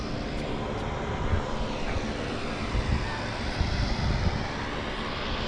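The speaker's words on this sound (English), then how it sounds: "Here's the helicopter. Wave Rider helicopter tours." A Wave Rider tour helicopter runs nearby in San Diego, its engine and rotor making a steady loud roar with slight pulsing throughout.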